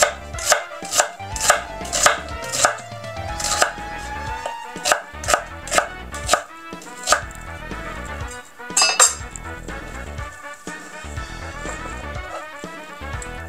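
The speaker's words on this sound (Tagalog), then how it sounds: "Ngayon, ito pong ating onion. Hawain nyo lang po yan ng ganyan." A knife chops an onion on a cutting board in rapid, sharp, evenly spaced knocks, close and loud, with a short pause and a final few cuts, no talking.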